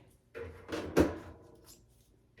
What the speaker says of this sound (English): Give it a good little snug push in there, like that, like that.